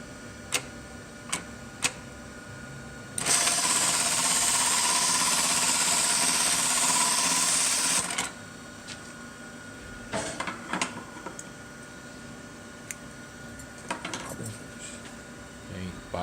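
A JUKI LK-1900B industrial sewing machine with three-cord thread trimmers disabled stitches a box and cross pattern as a dense, rapid mechanical buzz lasting several seconds, with scattered ticks and clicks before and after.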